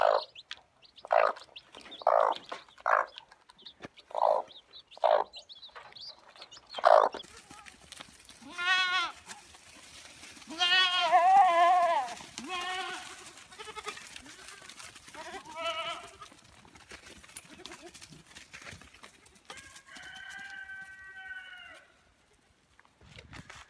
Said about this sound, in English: all it takes is for one goat to decide she wants to go somewhere else. And she lets out this certain little call